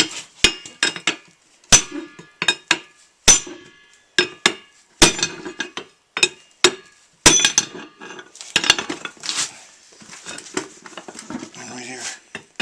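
A hammer repeatedly strikes while an Argo amphibious vehicle's flat tire is repaired outdoors in Newfoundland, giving sharp, close metallic knocks in irregular bursts, some quick and clustered, with brief pauses between.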